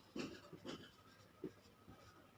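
Pen strokes scratching on paper while working a class 10 maths problem on a cone, a few short soft bursts with quiet pauses between them, close and faint.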